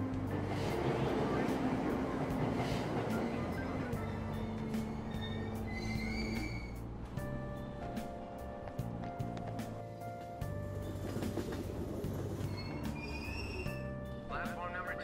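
A train in the video game Persona 5 Royal arrives and runs at a station platform, a steady rumbling roar with squealing wheels and chime-like tones, under spoken dialogue.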